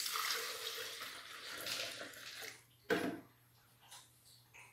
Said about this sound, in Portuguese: nós vamos pôr o leite.